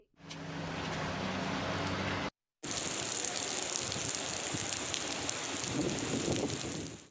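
Heavy monsoon rain pours down steadily in Karimnagar district, a loud continuous hiss of rain hitting surfaces that stops briefly and then resumes just as strongly, with no talking.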